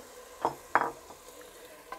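Carrots, peas and potatoes stirred in a pan, with a faint sizzle and a few soft scraping stir strokes, no voices.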